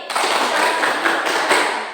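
Players clap together in a green-versus-black clapping game during a group counselling session, a dense burst of many hands clapping continuously and fairly loud.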